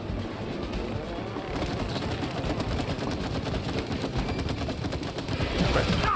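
Rapid bursts of gunfire from shooting at a target in the co-op video game It Takes Two, a dense steady rattle of shots that grows slightly louder toward the end, with game sounds layered in.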